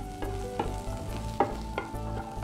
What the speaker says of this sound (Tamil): இப்போ இந்த நெல்லிக்காயை வந்து கொஞ்சம் அந்த பச்சை வாசனை போகிற அளவுக்கு நல்லா வதக்கணும்.